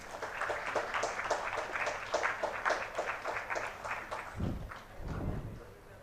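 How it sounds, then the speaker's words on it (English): An audience at an IEEE international conference evening event at BVICAM gives a round of applause, the clapping fairly faint and rhythmic, with a pair of deeper thuds near the end. "A huge round of applause."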